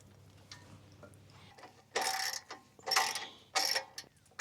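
Ratchet wrench tightening bolts during a 3rd function kit install, faint clicks at first, then three loud bursts of rapid ratcheting close by.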